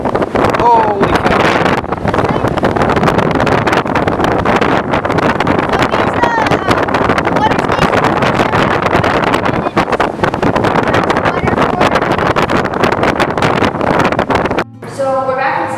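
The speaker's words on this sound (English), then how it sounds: "It's super windy out there." Strong wind roars and buffets the microphone continuously outdoors at Sheringham Point Lighthouse, loud and steady, then cuts off abruptly near the end as a quieter indoor tone remains.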